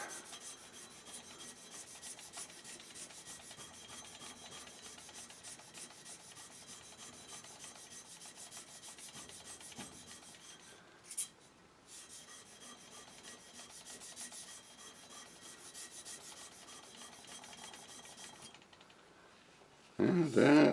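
A polishing stone is rubbed back and forth across a flat diamond abrasive lapping plate, giving a steady rasping, scraping sound that stops briefly partway through before resuming, with a sharper knock near the end.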